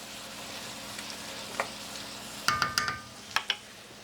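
Eggplant frying in a hot pan gives a steady low sizzle, broken by a few sharp clicks and taps of a utensil against the pan near the end.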